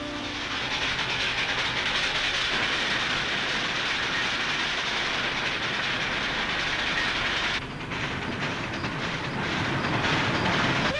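A steam train draws near on the tracks, a loud continuous rumble with hiss and rhythmic clatter that shifts slightly near the end, no voices.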